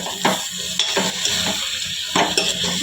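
A village-style eggplant curry being stirred in a frying pan, a soft sizzle running under several scraping strokes of the spoon against the pan in an uneven rhythm, close by with no talking.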